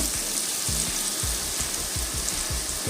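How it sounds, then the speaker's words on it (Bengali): Ridge gourd sizzles and fries steadily in hot oil in a pan, a continuous close crackle with soft stirring scrapes, no voices. "এবার এর মধ্যে আমি ঝিঙেটাকে দিয়েও একটুখানি কষবো"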